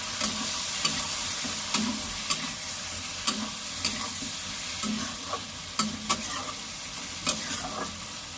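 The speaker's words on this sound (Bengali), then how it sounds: "সব মশলা দিয়ে দিয়েছি, এবার ভালো করে কষিয়ে নেব।" Ground chilli, cumin and coriander spices stir-fried in a pan for a bhetki fish curry: a constant sizzle with regular spatula scrapes about every half second, close and alone.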